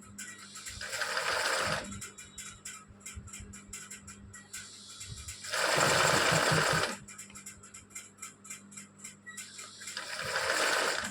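An embroidery machine stitches a design in woolen thread, its needle running in loud rapid bursts that start and stop, with quieter mechanical ticking between runs.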